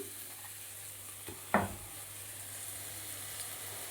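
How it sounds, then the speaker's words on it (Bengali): Vegetable stalks stir-fry in a pan with a quiet, steady sizzle, broken by a single sharp scrape or clack of the spatula partway through. "এইবার দেখো এটাকে আমি ভালো করে ভাজা ভাজা করে করে নিচ্ছি"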